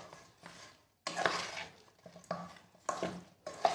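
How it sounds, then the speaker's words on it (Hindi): Raw mustard oil being stirred into mango pickle in a bowl, giving several bursts of wet scraping and clinking from a spoon against the dish, close and fairly quiet with short pauses between strokes. "अच्छे से मिक्स कर देते हैं।"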